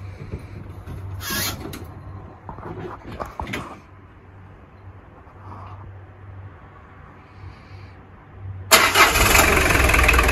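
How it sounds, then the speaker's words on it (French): A diesel car engine starts from cold: quiet clicks and brief mechanical knocks come first, then the engine catches near the end and runs loud and rough at close range. "problème de démarrage à froid sur un diesel, c'est vite vu"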